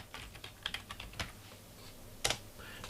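Keys tapped on a computer keyboard to enter an author name, a quiet run of uneven clicks with one sharper keystroke near the end, no voices.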